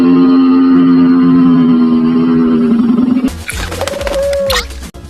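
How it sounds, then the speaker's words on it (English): Cartoon pigeons coo in a loud, steady warbling tone for about three seconds, then give way to a burst of flapping, clattering commotion with a rising squeal near the end. "These pigeons are crazy!"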